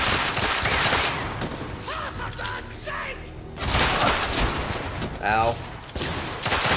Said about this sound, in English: Who gave them a machine gun?